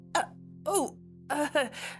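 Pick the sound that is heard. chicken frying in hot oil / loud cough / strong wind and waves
loud cough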